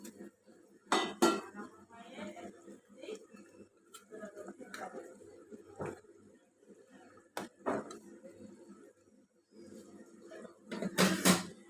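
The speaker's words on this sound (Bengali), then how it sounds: "এখন আমি এই ভেজে রাখা মাছগুলো দিয়ে দিচ্ছি" Fried fish pieces go into a pan of boiling curry with intermittent clinks and scrapes of a utensil against the pan, sporadic and close, over a quiet kitchen background.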